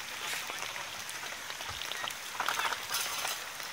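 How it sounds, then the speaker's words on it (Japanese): Raindrops patter steadily as a car drives along, with a continuous hissing wash and a few louder spatters near the middle, close and fairly even throughout. "雨粒が落ちたかな。"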